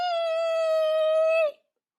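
A voice imitates car brakes squealing quickly to a stop, a single sustained high, steady whistle-like tone held for about a second and a half before cutting off cleanly, with no other sound around it.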